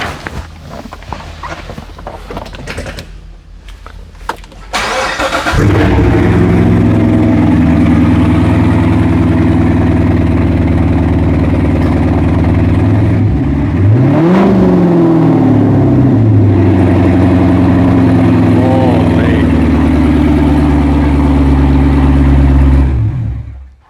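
A Corvette C7 engine cranks and fires up, settling into a loud, deep idle. The exhaust rumbles close by, and a sharp rev rises and falls midway before the idle resumes.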